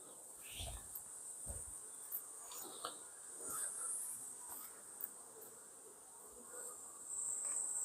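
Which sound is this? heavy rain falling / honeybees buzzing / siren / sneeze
honeybees buzzing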